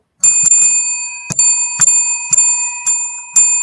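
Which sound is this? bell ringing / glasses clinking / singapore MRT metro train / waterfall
bell ringing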